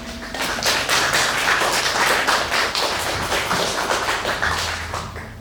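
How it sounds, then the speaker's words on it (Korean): Audience applause at a literary concert for a poetry collection, greeting a university professor being introduced; a room of hands clapping in a brisk, dense patter, close and fairly loud, fading slightly at the end. "박수를 많이 주십시오."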